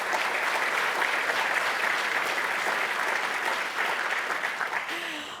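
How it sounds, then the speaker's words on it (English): An audience at the Ethnic Business Awards applauds a newly introduced judge with sustained, full-room clapping that fades slightly toward the end, with a voice faintly audible beneath it. "Also, yes, round of applause."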